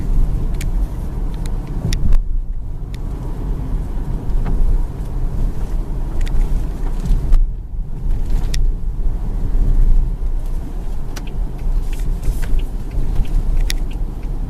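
A Volvo car fitted with hand controls drives along with a steady, close engine and road rumble, with gusts of wind noise across the microphone and no talking.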